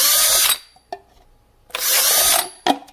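A power drill bores holes into plastic seedling containers in two loud whirring bursts, each about half a second to a second long, with a short clunk after each one and no talking.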